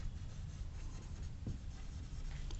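Faint chalk or marker strokes on a classroom board during a biology lesson, soft scratching under a steady background hiss, with no voice.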